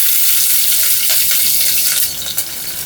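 Green chillies drop into hot oil, giving a loud, close, continuous hiss and sizzle that eases slightly near the end, with no voices.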